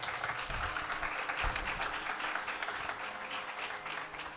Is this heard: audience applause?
yes